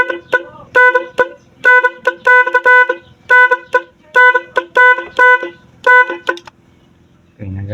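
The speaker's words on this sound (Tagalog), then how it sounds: "So pag gusto natin yung loud horn" A loud dual contact horn on a motorcycle honks close up in a series of short and longer blasts with a steady rhythm, then stops as a low rumble comes in at the end.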